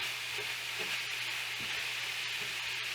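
A green chili casserole mixture with canned green chilies being stirred in a pan, soft quiet scraping and a light sizzle with occasional faint knocks of the utensil.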